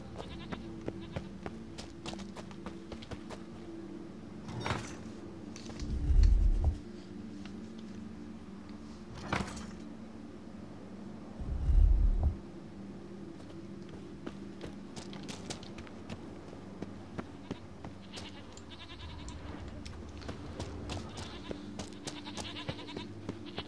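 Goats or sheep bleat in The Witcher 3: Wild Hunt, two short, loud calls standing out over steady game ambience, with faint footstep-like ticks between them.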